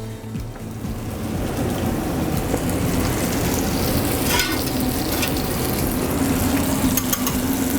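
Roux of fat and flour frying in hot grease while a wet spatula stirs it, a steady loud sizzle with scraping strokes throughout, close up and with no talk.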